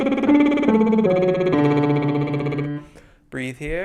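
A voice sings a descending run of sustained pitches on a buzzing lip trill as a wide-interval practice exercise. It steps down in clear stages, then pauses briefly before a short gliding vocal sound.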